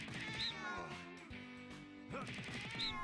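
A cat meows in the video game No More Heroes 2, two drawn-out meows with game music and effects running underneath.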